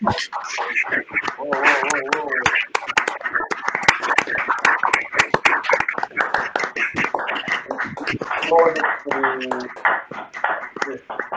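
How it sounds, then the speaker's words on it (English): Online participants applauding over open microphones during a virtual meeting, with scattered irregular hand claps and taps, clipped bursts and voices mixed through the whole stretch. "let's open the micro and give an applause to Marcello for that."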